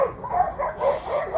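A dog gives several quick, soft barks and yips in a short run. The sound is moderately close but fairly quiet, with no talking.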